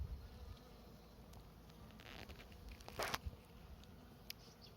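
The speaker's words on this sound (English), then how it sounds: "Lots of bees." Honeybees buzz in an open hive during an inspection, a faint continuous hum with soft handling clicks and rustles of frames close by.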